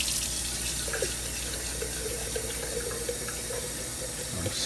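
Tap water runs in a steady, even rush into a jar holding broccoli sprouts, close and continuous with no voices.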